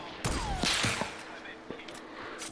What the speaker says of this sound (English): Yo, someone's shooting me.